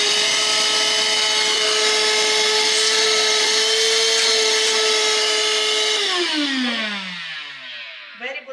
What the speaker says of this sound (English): I also like to use this vacuum to clean the car because it has a very good suction